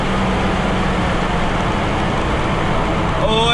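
A Nissan R32 turbo car accelerates hard, its engine giving a loud, steady roar that stays strong the whole time and climbs in pitch near the end.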